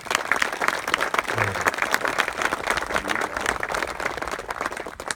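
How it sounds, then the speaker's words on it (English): An audience claps for a round of applause at a public event with Governor Asa Hutchinson, dense and continuous clapping that holds steady at full loudness throughout. "So I would like to give them all 3 a round of applause"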